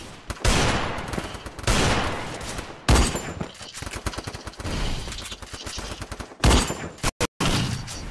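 Rapid bursts of automatic gunfire from the video game Garena Free Fire, loud and close, coming in repeated volleys with brief pauses between them and no talk over them.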